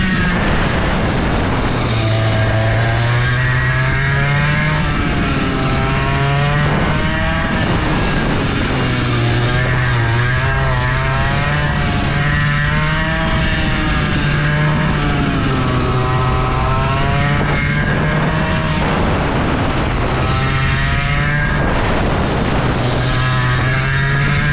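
A go-kart engine at full throttle on the Strijen outdoor kart track, a loud buzzing two-stroke whine that rises and falls with each corner and straight, close and continuous with no talk.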